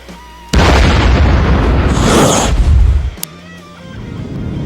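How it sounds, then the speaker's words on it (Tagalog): A sudden loud bomb explosion erupts into a roaring, rumbling blast that lasts a few seconds before cutting off, with a sharp crack near the end. "ay sumabog na nga ang pangatlong bomba"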